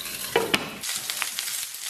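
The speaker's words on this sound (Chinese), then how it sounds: "我们来上两条五花， 先给它简单煎一下，" Two strips of pork belly pan-frying, a close bright sizzle with a couple of sharp spatula clicks at the start, then softer steady spitting and crackle.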